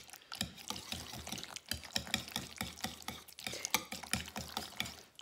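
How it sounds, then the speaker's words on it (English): Cranberry sauce and a full jar of chili sauce stirred together in a bowl, giving a steady run of wet, clicking scrapes and squelches in quick rhythm, close and fairly quiet, with no talking. "So right now in the bowl we have the cranberry sauce and the full jar of the chili sauce. We're just gonna mix that up."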